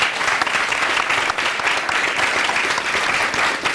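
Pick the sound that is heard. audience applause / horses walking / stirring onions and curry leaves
audience applause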